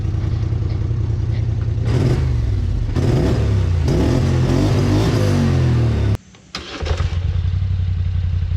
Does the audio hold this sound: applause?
no